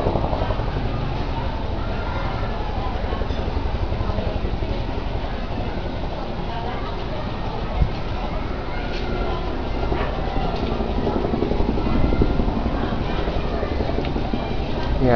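Helicopter circling over San Miguel, Tarlac, in the Philippines, a steady distant rotor drone filling the whole stretch without breaks, with faint background noise.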